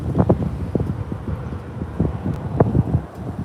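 Strong, gusty wind buffets the microphone outdoors at Vancouver International Airport, a steady low roar with sharp bursts, no talk over it.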